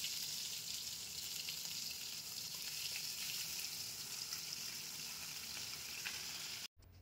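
Fish frying in white oil in a wok, a steady soft sizzle that runs unbroken and fairly faint for several seconds before a brief drop at the end.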